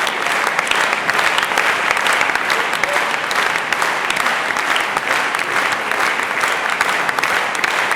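Concert hall audience gives pianist Kun-Woo Paik a standing ovation: thick, continuous clapping from many hands, loud and even from start to finish with no speech.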